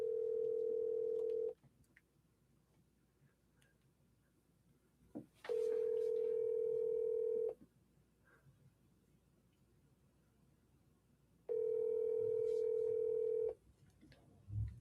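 A telephone ringback tone sounds while calling a real estate agent, three long steady tones of about two seconds each separated by roughly four seconds of quiet, clear and prominent with faint background noise between rings.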